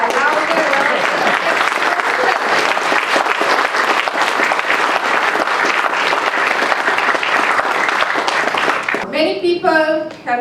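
Thunderous crowd applause at the launch of C4, the Centre to Combat Corruption and Cronyism, roars steadily, then thins out near the end as a voice begins speaking over the fading claps.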